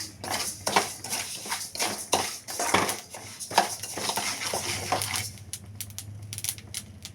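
Sesame seeds roasting in a pan over a medium flame pop and crackle in quick, irregular bursts close up. The popping thins out toward the end, with no talk over it.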